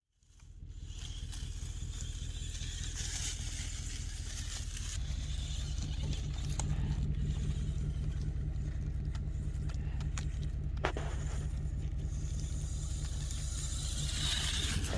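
A Spin Master Stunt Shot remote-control car with foam tires runs outdoors, its small electric motor giving a steady, fairly close whir with rattling surface noise throughout, rising slightly partway through.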